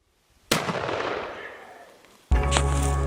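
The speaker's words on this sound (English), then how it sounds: "Just heard a shot and watched the buck tumble down the hill" A rifle shot during a mule deer hunt in British Columbia, a sharp crack with a long rolling echo that fades over about two seconds, cut off by a louder burst of noise close to the microphone.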